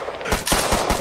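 Rapid automatic gunfire in a role-play video game set among police, a loud burst of several sharp shots packed close together, with no talk over it.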